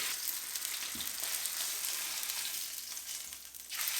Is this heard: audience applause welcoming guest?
no